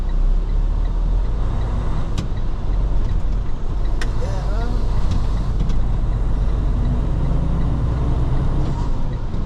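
A box transfer truck drives along the road with a loud, steady engine and road rumble, a constant drone from inside the cab while people talk over it.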